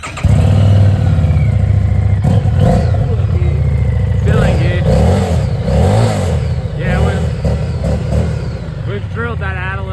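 Harley-Davidson 500 cruiser motorcycle engine idling and revving through its muffler, a loud, steady rumble with a few throttle blips, heard up close with people talking over it.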